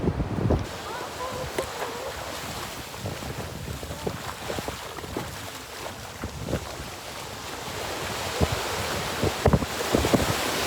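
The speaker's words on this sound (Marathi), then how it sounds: "लाटात सुद्धा येत आपण पाहू शकता." Sea waves wash onto a beach on a hot day in Mumbai, a continuous rough surf roar with wind buffeting the microphone and occasional louder bursts.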